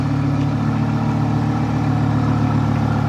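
A Lamborghini engine runs with a loud, steady, close rumble for the whole stretch, with no pause or break in the tone.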